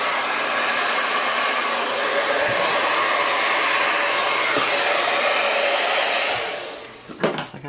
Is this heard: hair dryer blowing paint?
yes